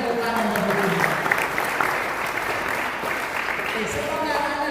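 A congregation claps during a church sermon, steady, dense applause filling the space from start to finish, with a voice speaking over it.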